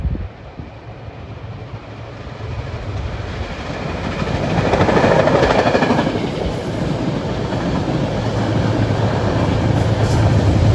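A Metro North push-pull train bound for New York rumbles past near a road crossing at Scarborough, a loud, sustained roar with rhythmic clickety-clack of wheels that swells midway and holds to the end.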